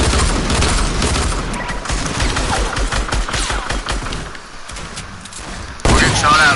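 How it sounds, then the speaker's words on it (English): Dense, continuous video game gunfire rattles throughout, with overlapping shots and booms forming a loud, chaotic barrage that swells again at the end. "We're getting shot at"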